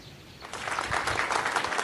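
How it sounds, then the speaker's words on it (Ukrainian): Children applaud to welcome a guest at a kindergarten festivity, a brief burst of soft, dense clapping that starts abruptly and continues evenly to the end. "На свято ми гостя до нас чекаємо і оплесками його привітаємо."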